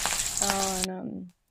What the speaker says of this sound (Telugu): ఇప్పుడు వచ్చేసి నేను పోపు పెట్టేస్తున్నాను